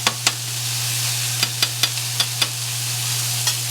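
Oil and roasted garlic sizzle on a flat griddle, a steady close hiss over a low electrical hum, broken by a series of sharp metallic scraping taps from a spatula.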